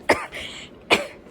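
A woman coughs twice during an ultrasound scan: a sharp, close cough, a brief throat-clearing rasp, then a second loud cough after a short pause.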